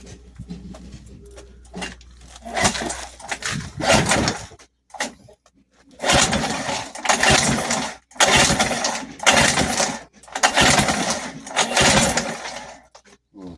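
A small outboard boat engine sputters and catches after a few weak attempts, then runs in loud, uneven bursts that cut out and restart several times.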